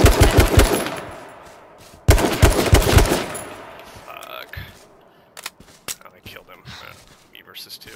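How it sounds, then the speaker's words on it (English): Gunfire from the H1Z1 battle-royale video game, with two loud rapid automatic bursts followed by scattered single shots at varying distances. Players talk over it. "I'm shooting at the one Purple, I'm shooting at purple."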